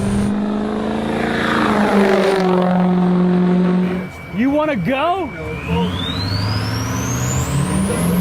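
Turbocharged 650 horsepower Humvee with a 6.6 Power Stroke diesel, a loud steady engine drone with a pitch dip and rising whine as it revs, a voice speaking briefly partway through.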